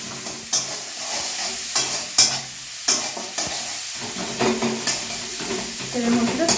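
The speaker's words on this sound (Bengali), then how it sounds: "তেলের মধ্যে হালকা করে নেড়ে নিয়ে একটু চাউমিন তুলে দেবো" Garlic, onion and salt sizzle in hot oil in a pan while being stirred, with a steady frying hiss broken by repeated scraping and clanking stir strokes, close up.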